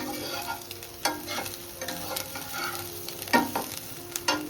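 Stuffed spiny gourd (kantoli) frying in a pan, a steady soft sizzle broken by several sharp scraping stir strokes, with no talk.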